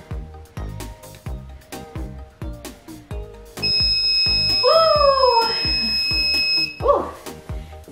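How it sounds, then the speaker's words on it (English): A workout interval timer sounds a sustained electronic beep during a dumbbell Tabata session, steady and loud for about three seconds over a thumping music beat, with rising and falling tonal sweeps. "And there's that beep."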